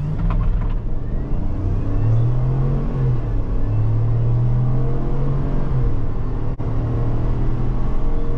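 A 2021 Chevrolet Suburban LT accelerates hard from a standstill in a 0-60 test, heard from inside the cabin as a loud, steady engine drone with rising pitch through the gears and a brief dip at a shift.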